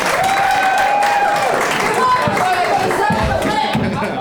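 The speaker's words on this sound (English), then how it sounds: "And if you think Esther won the battle, give a round of applause." Studio audience applauds to vote for Esther as winner of a judged battle, a loud sustained round of clapping and crowd noise with voices mixed in throughout.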